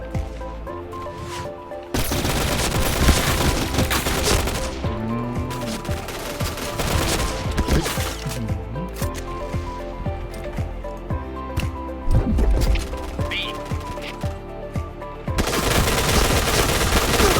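Video game gunfire in PUBG, bursts of rapid automatic shots layered over a dense, loud game soundscape with music-like tonal bands, continuing steadily throughout.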